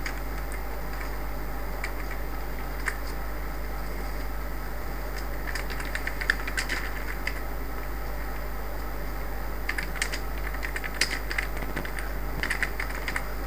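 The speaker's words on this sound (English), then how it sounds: "Now we can type in the title as new feedback form." Typing on a computer keyboard, with scattered bursts of clicky keystrokes separated by pauses over a steady background hum, fairly close and moderately quiet.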